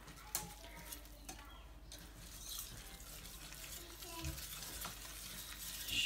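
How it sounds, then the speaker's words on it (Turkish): Soft, steady stirring and light sizzling come from a cup of flour roasting in 125 grams of butter in a pan, faint and continuous with occasional scrapes. "Bir bardak unla 125 gram tereyağını şöyle unun kokusu çıkana kadar bir kavuracağız canlarım"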